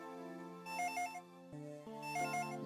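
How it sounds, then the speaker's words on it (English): A telephone ringing in the video game Dragon Ball Z: Legacy of Goku 2, a bright electronic ringtone of layered tones heard in two quick bursts with a brief gap between them, alone and fairly quiet. "The phone is ringing."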